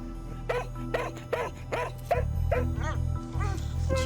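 A dog barks repeatedly while alerting a neighbor to an emergency, giving about eight evenly spaced, fairly close barks over a steady low music bed.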